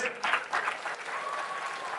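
Brief, moderately loud applause rolls through a school crowd at an Independence Day ceremony, honoring graduates accepted at state universities, steady clapping for two seconds with a faint voice underneath.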